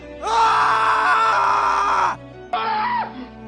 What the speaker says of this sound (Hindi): मैं चिल्लाने लगा।